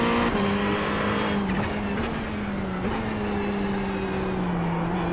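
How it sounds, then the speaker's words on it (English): A GT3 race car at Daytona drones steadily and loudly with a sustained engine tone that shifts slightly in pitch as it closes in. Track noise surrounds it throughout. "There's a car approaching."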